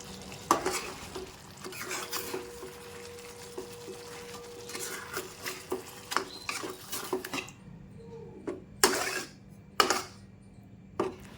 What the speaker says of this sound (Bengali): দিয়ে ভালো করে আমি মিশিয়ে নেব সমস্ত উপকরণ আবারও একসাথে